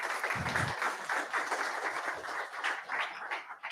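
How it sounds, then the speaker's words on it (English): An audience gives a round of applause at a tech launch event, with dense, steady clapping that stays moderately quiet and fairly distant throughout. "let's give him a round of applause."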